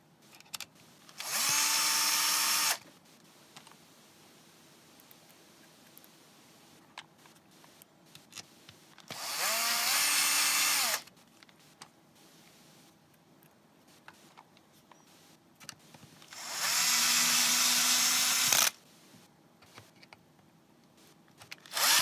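Power drill driving screws back in during a car stereo install in a 2017–2018 Nissan Pathfinder, three separate whirring bursts of about two seconds each, close and loud, with quiet clicks and handling noise between them.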